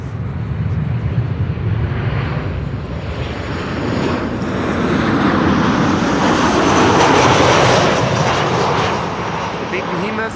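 KLM airliner arriving at Amsterdam Schiphol from Nairobi, jet engines on approach making a broad, swelling roar that builds toward the middle and eases off, loud and continuous under intermittent talking.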